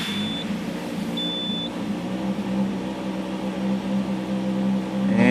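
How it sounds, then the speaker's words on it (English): A 1998 Nissan Maxima engine started after a serpentine belt replacement, settling into a steady low idle hum close by, with two short electronic chime beeps near the start. "the last thing we need to do, final check, start the vehicle"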